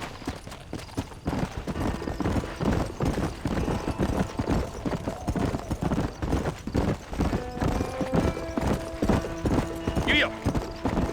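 Horse hooves clip-clop at a steady trotting rhythm while riding in the Red Dead Redemption video game, with several voices talking throughout and a horse neighing near the end.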